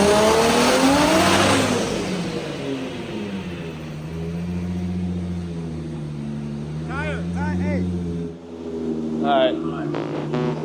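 A Ford S14.9 engine makes a boosted dyno pull, a loud, sustained mechanical roar that rises and falls in pitch over several seconds, then cuts off near the end with a few sharp squeals.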